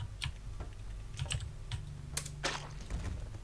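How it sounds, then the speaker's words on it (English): Typing a console command on a computer keyboard during a game: scattered light key taps, a few quick clusters, faint and close over a low steady hum of background noise. "I want you to go into console and type explode Greener."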